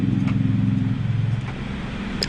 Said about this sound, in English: listen how much the engine noise has been cleaned out